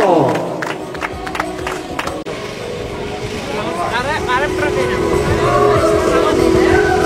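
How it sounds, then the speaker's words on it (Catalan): Spectators applaud a runner finishing a 19 km uphill mountain race from Bagà to Coll de Pal, a steady crowd noise with scattered claps and shouts running under continuous talk from an announcer over the full length. "Un fort aplaudiment per en Joan"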